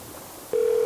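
A telephone ringing during a call: a steady electronic ring tone starts halfway through and holds on, loud and clear over faint background hiss.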